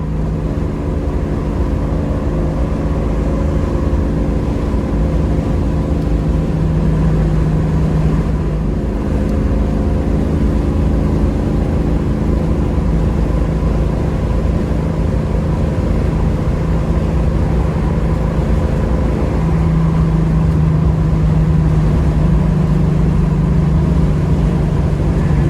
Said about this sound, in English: At 70 miles an hour, cruising really nice and straight.